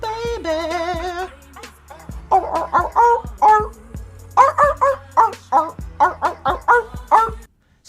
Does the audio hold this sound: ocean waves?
no